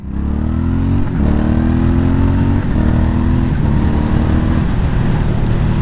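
An Aprilia Shiver 900 motorcycle engine revs close and loud, rising in pitch through several upshifts with brief dips between gears, the run-in engine held around 4000 rpm.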